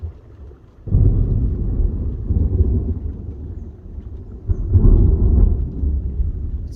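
Deep thunder from an approaching thunderstorm at Fishery Bay rolls in after a brief quiet moment, rumbling loudly and continuously with a second swell near the end, no voices present.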